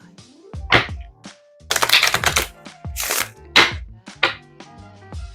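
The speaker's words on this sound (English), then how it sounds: "I feel like shuffling again." An oracle card deck is shuffled by hand in a quiet room, giving close bursts of papery riffling and soft slaps of cards in uneven clusters separated by short pauses.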